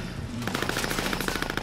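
Rapid machine gun fire in a video game starts abruptly after a brief quiet moment and rattles on in fast, even bursts, loud and close.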